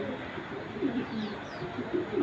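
Imported bloodline pigeons coo in soft, repeated low bursts close by, a faint rumbling that swells slightly toward the end, with no voices.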